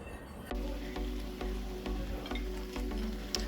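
Cabbage frying in a pan with garlic powder, onion powder, salt, pepper and seasoning salt, a close, steady sizzle that kicks in abruptly and is broken by repeated stirring scrapes.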